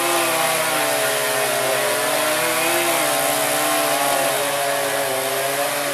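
A chainsaw runs loud and steady throughout while cutting a tree that fell onto a house, its engine whine holding a constant buzzing pitch close by with no talking.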